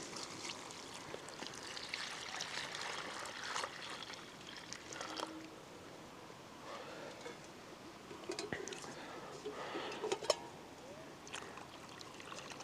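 Water pours and trickles into a Sea to Summit collapsible kitchen sink outdoors, a soft, uneven splashing stream that comes and goes over about twelve seconds, faint against a quiet background.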